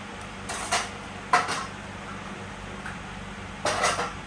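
A utensil stirs a teaspoon of white vinegar into Belgian waffle batter in a bowl, making three short bursts of scraping, clinking strokes separated by quieter pauses.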